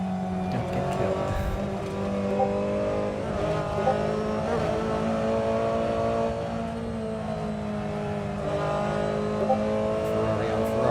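Ferrari race cars roaring in close company during a six-hour endurance race at Watkins Glen, engines droning steadily with rising and falling revs, loud and continuous, with talk over the top.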